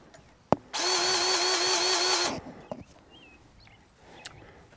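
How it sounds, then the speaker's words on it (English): A powered grease gun greasing a track loader at a sawmill, one close, steady whirring burst lasting about a second and a half, followed by clicks and faint birdsong outdoors. "Let's put some grease in the track loader before we get started."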